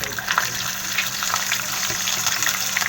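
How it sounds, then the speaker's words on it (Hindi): Ginger garlic paste sizzling with whole spices in a pan over a low flame, a steady soft crackle and hiss running continuously with faint bubbling, close and unbroken. "इन मसालों को भी हम लो फ्लेम पर ही भून लेंगे।"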